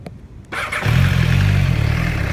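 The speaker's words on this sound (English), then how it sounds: "It has a 990cc inline four-cylinder fuel-injected engine, six-speed transmission." A 2010 MV Agusta Brutale 990R with a 990cc fuel-injected inline four-cylinder engine fires up and settles into a loud, steady, close-up idle after a brief quieter lead-in.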